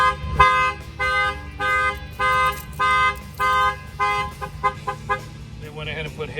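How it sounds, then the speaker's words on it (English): A 2020 Jeep Wrangler's car alarm blares nearby, triggered by opening a door, in a steady repeating pattern of loud, pulsing tones, then shifts to a faster warbling siren before cutting off. "The alarm will trigger."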